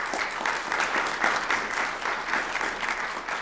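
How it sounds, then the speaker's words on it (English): A senior citizens commission audience gives a steady round of applause, a dense, sustained patter of many hands at moderate distance with no voices over it. "So let's give them a round of applause again."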